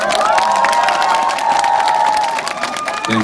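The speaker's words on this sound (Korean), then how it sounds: "박수 좀 부탁드릴게요" Loud crowd cheering and clapping at a Bucheon International Fantastic Film Festival open talk, with high shouts and whoops over dense applause that continues steadily before fading slightly at the end.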